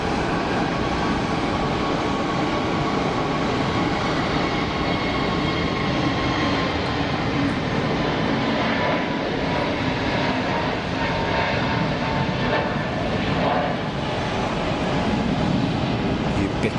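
An orange and white EasyJet airliner at Geneva Airport, its engines producing a loud, continuous jet roar that holds steady throughout, with a person talking faintly under the noise.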